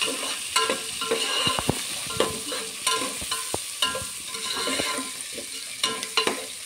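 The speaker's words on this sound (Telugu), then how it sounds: "వేసుకొని అంతా ఫ్రై అయ్యే వరకు కలుపుకోవాలి" Sliced onions and green chillies sizzle in a hot pan for an atukulu snack while a spoon stirs them, giving repeated sharp scrapes and taps against the metal over a steady frying hiss.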